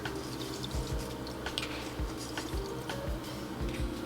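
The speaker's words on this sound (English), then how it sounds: "I have some room temperature water that I'm going to add in." Room-temperature water pours into a cooking pot, a faint steady splashing trickle with small intermittent drips and sloshes.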